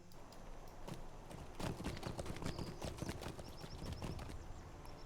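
In the online game Lord of the Rings Online, a horse's hooves clip-clop in a steady walking rhythm, with a few chiming interface tones over the top.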